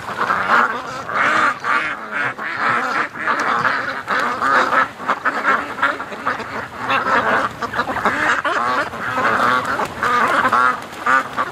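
Ducks, including Muscovies, quack and honk continuously beside a lake, in a dense, close chorus of overlapping calls that runs without a break.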